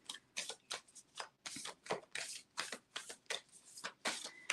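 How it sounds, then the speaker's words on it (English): Tarot reincarnation cards shuffled by hand in a steady run of crisp riffling bursts, about a dozen quick rustles close to the mic with no talking. "I like to shuffle on camera"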